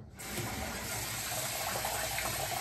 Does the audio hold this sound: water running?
yes